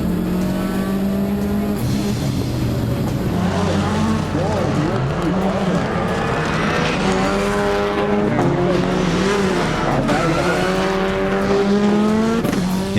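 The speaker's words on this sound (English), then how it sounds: "Heat 2 is up, and Bucky is on the line. But from the start, he's off the pace" Subaru rallycross race cars from a GRC New Hampshire heat roar loudly with rising and falling engine revs and tire squeal, under a commentator's voice.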